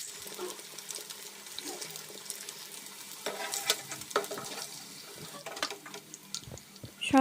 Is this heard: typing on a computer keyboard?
no